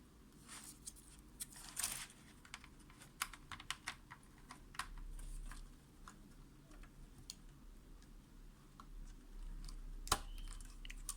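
Keys clatter faintly on a Dell Latitude D830 laptop keyboard, an irregular run of light clicks and taps with a few sharper presses, heard close in a quiet room.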